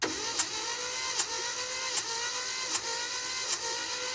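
An engine cranks over on its starter during a cylinder compression test, five evenly spaced compression pulses over a steady whirring drone, fairly faint and without voices.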